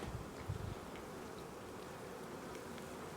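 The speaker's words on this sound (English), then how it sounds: "the bees are already on the edge of it drinking" Honey bees buzzing around a hive, a steady close drone of many wings with a brief louder pass near the start, no voices.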